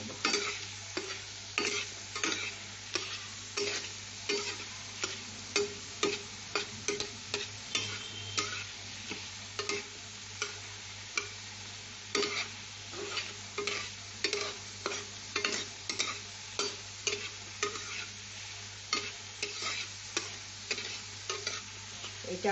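Dried red chili and black cumin frying in a pan, a soft steady sizzle with rhythmic scraping stirs repeating every second or so, close and fairly quiet.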